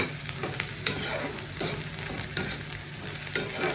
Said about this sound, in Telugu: కొంచెం సేపు వేగాలి ఆనియన్స్